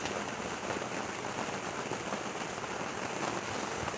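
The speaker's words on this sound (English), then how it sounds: "if you can't tell, it's raining right now" Rain falls outside as a steady, dense hiss of drops with no breaks or changes in strength, and no voices or other sounds over it.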